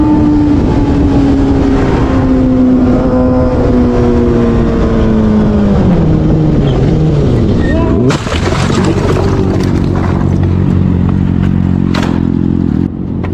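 A motorcycle crash on a one-way street while one rider makes a U-turn: a loud engine drone falls in pitch under hard braking, then an abrupt impact with clattering debris, and an engine keeps running afterward.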